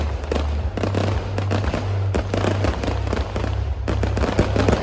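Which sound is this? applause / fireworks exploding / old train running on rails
fireworks exploding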